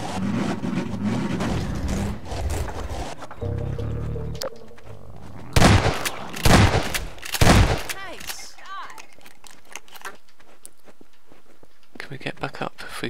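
Gunfire in Half-Life 2 Episode 2, starting with a cluttered stretch of game sound and then three loud, heavy shots about a second apart, followed by quieter effects and a short burst at the end.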